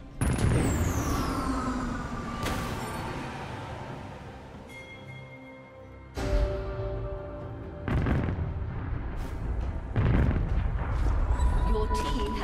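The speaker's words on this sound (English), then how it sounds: "Your team has destroyed a turret." A turret destroyed in League of Legends during Lux gameplay in URF mode: heavy booming blasts and crumbling explosions recur every couple of seconds, loud and layered with game effects and music.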